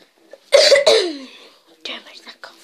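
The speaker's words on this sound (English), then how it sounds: "that cough's annoying." Two close coughs from a person during a plush-toy Plants vs Zombies game, about half a second apart, with quieter breathy vocal sounds following after a short pause.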